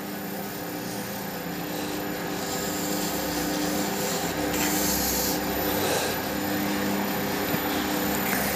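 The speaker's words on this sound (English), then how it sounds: "I only really want to sand with the wet, the top section." Pads wet-sand the top section of a wood and epoxy resin shaving brush handle, a steady close rubbing hiss that runs unbroken throughout with no talk.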